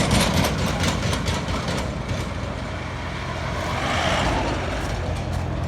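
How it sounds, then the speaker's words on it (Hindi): Dense road traffic at night on a busy rural road during the wheat harvest season: heavy truck and car engines rumble continuously and loudly, with vehicles passing close by and no voices. "अभी सीजन है ना, गेहूं का सीजन है, तो इसलिए बहुत ज़्यादा ट्रैफिक आ रही है।"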